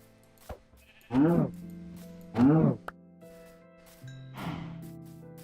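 Sheep in Minecraft bleat three times in separate wavering calls, with quiet game ambience and a soft click between them.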